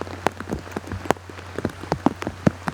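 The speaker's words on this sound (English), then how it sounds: "It's starting to rain again" Rain falls outdoors during a whitetail deer hunt in Illinois, with scattered heavy drops tapping a nearby surface in an irregular patter over a low, steady background hum.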